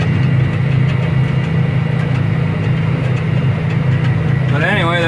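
Tractor engine running at road speed around 30 miles an hour during harvest, a loud steady low rumble with a constant drone that holds through the whole stretch, with a voice coming in near the end.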